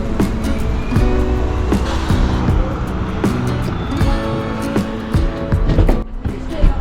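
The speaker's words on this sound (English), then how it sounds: "Bus number 80." City bus number 80 in Luxembourg City rumbles in to a stop, its heavy engine loud and close under rough, uneven road and traffic noise.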